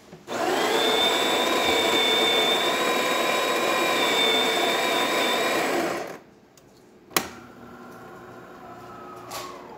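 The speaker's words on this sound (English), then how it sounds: "We're grinding on the third setting and we're using our test coffee." A Delonghi Magnifica espresso machine grinds coffee beans on the third setting with a loud, steady mechanical whir for about six seconds. The whir stops abruptly, then a sharp click follows and a faint hum carries on.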